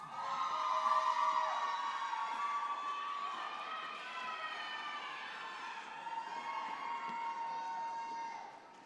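A crowd at a high school graduation ceremony cheers with sustained, high-pitched whoops and hollers. The sound carries across a large space and slowly rises and falls over nearly nine seconds, with little clapping audible.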